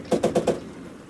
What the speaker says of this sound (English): Browning automatic rifle. God, these are still using BARs.